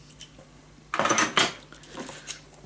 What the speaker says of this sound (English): so now we're going to cut the corners